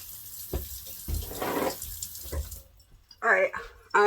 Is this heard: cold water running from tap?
yes